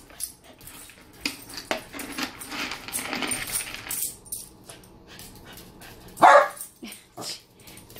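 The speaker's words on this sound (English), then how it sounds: "Don't bark." A pet dog barks in sharp bursts indoors, with a louder bark near the end and some rustling and handling noise between the barks.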